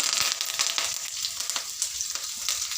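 Green chillies and curry leaves fry in hot oil for mango rice, a loud, steady crackling sizzle with quick spattering pops and faint stirring, close up and with no voices.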